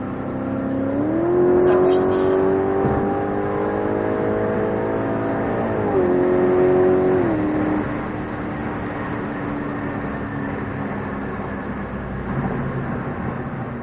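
Audi RS5 fitted with a JHM exhaust accelerating hard, its engine note climbing through two loud pulls with a gear change between, then settling into a steady cruise drone; no talking.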